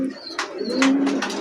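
A domestic pigeon at a breeding and sale loft coos close by in a few throaty bursts, with brief chirps mixed in and no talking.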